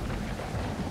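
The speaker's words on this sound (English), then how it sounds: "We're going to go sailing in the storm." A thunderstorm at sea in the survival game Stranded Deep gives a low, rumbling roar with rain hiss, continuous and fairly loud across a brief moment, with no talking.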